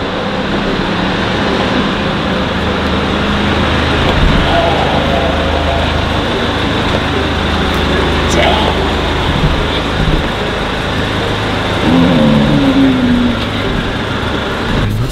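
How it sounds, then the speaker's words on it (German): A steady, loud engine rumble runs throughout with dense low-frequency noise, like a car idling or driving, with no pauses. "Cayman, mach den Motor aus, der kann uns hören."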